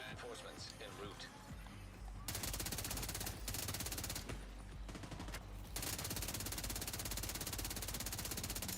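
Automatic gunfire emptying a whole magazine in The Division 2 video game, long loud bursts of rapid shots broken by brief pauses, a talking voice in the first seconds before the shooting.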